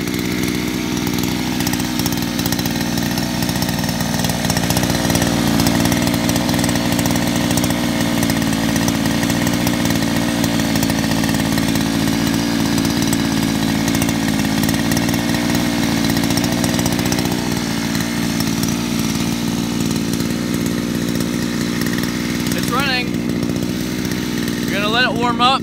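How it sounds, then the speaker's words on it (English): A brand new 49cc two-stroke gas scooter engine idles steadily with the choke on during break-in, a continuous buzzy drone holding for the whole stretch at close range with no break. "So just let it run for about 30 seconds or so with the choke on."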